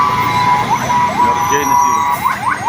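An emergency vehicle siren wails outside an airport, loud and close, with repeated rising and falling sweeps over traffic and engine noise while someone talks over it.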